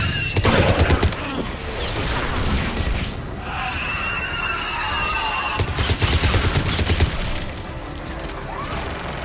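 Mounted gun fire in the Mass Effect 3 video game, with dense rapid bursts and heavy booms over a steady roar of battle, loud and close, with occasional game speech.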